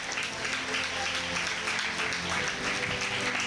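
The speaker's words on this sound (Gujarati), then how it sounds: "જોરદાર તાળીઓથી વધાવીએ આજના આ સેશનને." An audience applauds at the close of a lecture session, a dense, even wash of clapping that holds steady for a few seconds without speech.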